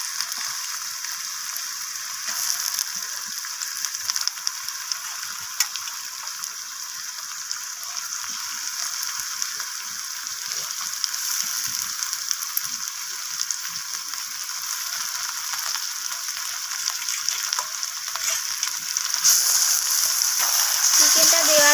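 Chicken is stir-fried with onions in a pan, a continuous hissing sizzle that runs steadily throughout at moderate loudness, with occasional faint scraping and stirring clicks and no talk over it.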